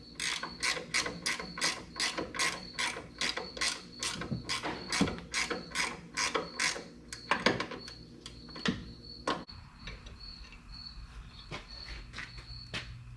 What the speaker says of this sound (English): Ratchet wrenches are your friend.